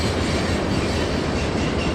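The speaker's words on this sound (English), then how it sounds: "A large block of auto racks for the ramp in Newcastle, Delaware generally bring up the rear of the train." Freight train with auto rack cars rolling past close by, a dense steady rumble and rattle of wheels and cars filling the whole moment without pause.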